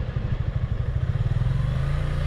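A Suzuki Gixxer 155 manual motorcycle engine revs and blips in a steady low throbbing pulse while downshifting with rev matching, close up and loud, with no talking.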